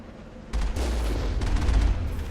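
Gunfire in Mass Effect 1 hits a turret: a burst of rapid, loud shots begins abruptly and keeps going in a dense rattle with heavy low booms, no talk.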